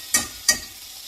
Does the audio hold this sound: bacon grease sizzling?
yes